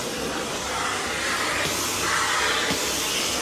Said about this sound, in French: je passe l'aspirateur